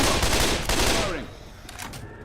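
Dense burst of rapid gunfire from a Left 4 Dead 2 shooter game, loud and continuous for over a second before tapering into a fainter, rattling tail with scattered shots.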